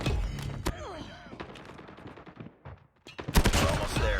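Rapid automatic gunfire bursts from a sentry gun in a competitive online shooter's domination match, loud rattling volleys with a brief lull before firing resumes, mixed with game sound effects.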